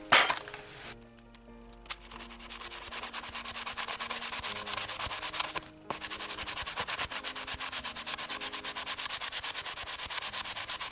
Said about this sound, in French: Derrière, on va carrément poncer.